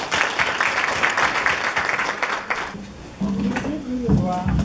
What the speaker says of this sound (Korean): 우리 최 집사님 박수로 환영하겠습니다